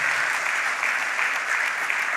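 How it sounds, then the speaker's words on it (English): An audience at a CEF business meet in April 2025 breaks into steady, dense applause, many hands clapping evenly and close with no pauses. "अरे तालियां तो बजनी चाहिए."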